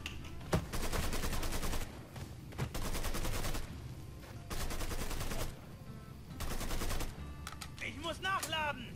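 Gunfire in the video game Mafia III: repeated bursts of rapid automatic shots in several rounds, close and loud, with brief pauses between bursts and a voice speaking near the end.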